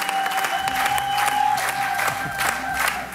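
Loud, close applause with scattered whoops and cheers rises from the A Dal 2021 studio audience for performer Gergő Szekér, clapping rolling on without a break.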